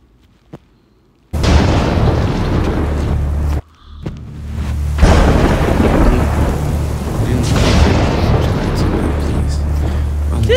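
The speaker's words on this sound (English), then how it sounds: "This rain came out of nowhere!" An animated cartoon thunderstorm breaks with a sudden loud crash of thunder, then heavy rain pours in a dense, continuous hiss, with a second rumbling swell partway through.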